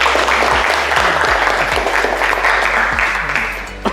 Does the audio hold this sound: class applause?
yes